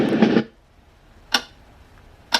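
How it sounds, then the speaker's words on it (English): A Renpho white noise machine plays a ticking clock sound: sharp, isolated ticks about one second apart over near silence, faint and alone after a short opening burst. "I guess some people like just the noise of a ticking clock."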